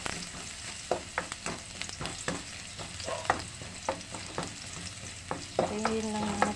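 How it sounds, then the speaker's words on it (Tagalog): Garlic fries in a pan for a ginataang papaya dish with pork, a soft constant sizzle broken by frequent sharp spatula taps and scrapes, close and moderately loud. "Lagyan na po natin ang bawang."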